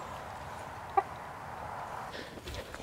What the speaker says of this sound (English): he's a beautiful rooster